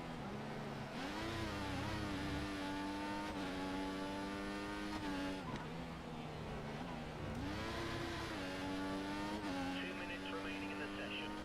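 Race car engine in the F1 2014 video game, loud and continuous, climbing in pitch through several upshifts with brief dips at each gear change, no talking over it.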